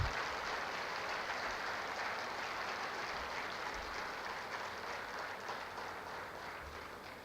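Applause from a conference audience at a finance meeting: a broad, even wash of clapping that holds steady for over seven seconds and fades slightly toward the end.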